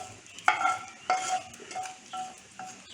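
Sambar being stirred in a cooking pot, several distinct scraping strokes of a utensil against metal with light clinks, close by and spaced about half a second apart, with no talking.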